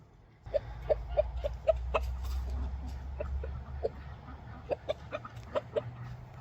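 Hens cluck in short, scattered bursts close by, with a few clustered clucks near the end over a low background hum.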